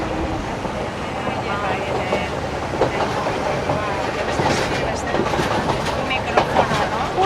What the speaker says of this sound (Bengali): পুরো সমুদ্রের পাশ দিয়ে দিয়ে ট্রেন যাচ্ছে